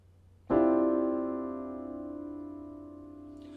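A single shimmering chord of closely packed notes struck all at once, ringing out and slowly fading after the attack.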